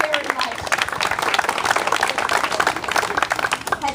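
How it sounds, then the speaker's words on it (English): Crowd at a political campaign kickoff rally applauding volunteers, a dense, loud, sustained wash of clapping with cheering voices mixed in, steady throughout. "We want to applaud you."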